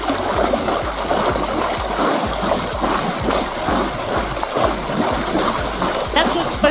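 Water splashes and churns in a pool from fast, short straight-leg kicks during an aqua exercise, a rapid rhythmic slapping at close range over a constant rushing wash.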